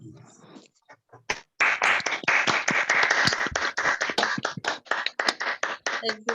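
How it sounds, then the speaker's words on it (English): Applause from an online LGBT poetry open mic audience over a video call, a burst of clapping from several participants that starts faint, swells loud and dense, then thins into scattered claps. "Another round of applause for Cleo Lowe, please."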